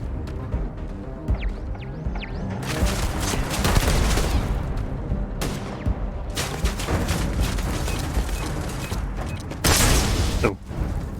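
Laser gun firing in Starfield during a firefight, with repeated loud bursts of shots in clusters and short gaps, mixed with mechanical clanks and impacts.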